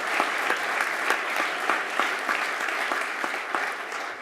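Audience applause at a full-length presentation for a signature event, a steady dense wash of many hands clapping, loud and sustained for the whole stretch with no talk over it.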